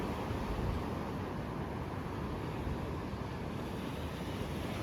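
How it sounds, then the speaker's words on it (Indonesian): Large ocean waves roll in at Pelabuhan Ratu beach with a steady, loud broadband surf roar and wind buffeting the microphone, continuous throughout with no voices. "Cuman di sini, tapi ombaknya gede ternyata."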